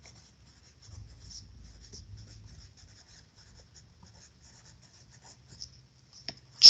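A pen scratches out math notes on paper in faint, intermittent bursts of writing, closing with a louder tap or knock.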